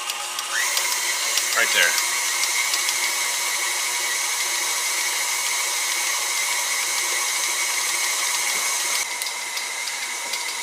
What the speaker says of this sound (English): So while this dough kneads in the mixer